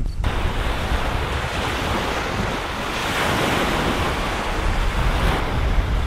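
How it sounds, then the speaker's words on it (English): Steady breeze and surf on a Sanibel Island beach, with waves washing in continuously and wind buffeting the microphone throughout, loud and close with no voices. "It's breezy here, but it's kind of refreshing."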